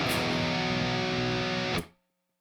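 A distorted electric guitar plays a chorus part of a song, a dense sustained chord struck once and held for nearly two seconds before being cut off sharply into silence.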